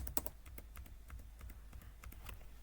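Quick keystrokes on a computer keyboard as a system password is entered in an office, a run of irregular clicks close by, loud and alone with no talk.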